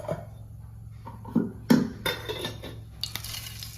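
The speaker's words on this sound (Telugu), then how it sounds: "తర్వాత స్టవ్ ఆన్ చేసుకొని పాన్ పెట్టుకొని సరిపడా ఆయిల్ వేసుకోవాలి." A pan set down on a stove and oil poured in while cooking egg garlic masala, giving a few clanks and scrapes of metal cookware close by in a quiet kitchen, with no talking.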